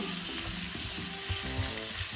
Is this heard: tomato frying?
yes